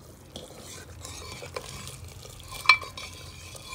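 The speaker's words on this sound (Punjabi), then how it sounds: "ਸਬਜ਼ੀ ਨੂੰ ਤੜਕਾ ਤਾਂ ਲਾਤਾ ਅਤੇ ਰਿੱਝਣ ਵੀ ਲੱਗ ਗਈ" A pan of vegetable curry, already tempered, simmers quietly on the stove with faint bubbling and soft stirring, broken by a few light clinks of a utensil against the pan, one noticeably sharper near the end.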